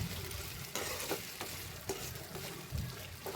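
Cut raw banana pieces sizzling in a pan, faint steady frying hiss broken by several soft scraping stirs at irregular intervals, no voices.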